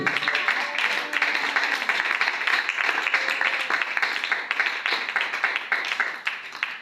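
A church congregation applauds and claps loudly in praise of God, a dense, steady wash of many hands filling the room without a break.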